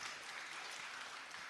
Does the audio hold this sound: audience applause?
yes